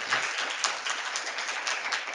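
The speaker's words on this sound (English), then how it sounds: "should we have a round of applause?" An audience applauds after a talk about building a product with minimal resources, with many hands clapping in a continuous, even wash that carries on steadily with no voices.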